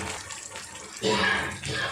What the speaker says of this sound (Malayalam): ഇനി നമുക്ക് ബാക്കി മീൻകറിക്ക് ആവശ്യമായിട്ടുള്ള വെള്ളം കൂടി ഇതിലേക്ക് ചേർത്ത് കൊടുക്കാം